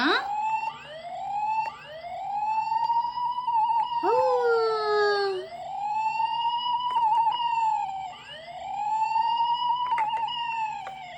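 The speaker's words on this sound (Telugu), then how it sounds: "ఏమంటుంది పోలీస్ జీప్?" A toy police siren wails in repeated rising and falling sweeps, close and steady, with a brief different warble partway through.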